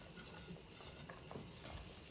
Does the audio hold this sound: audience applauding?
no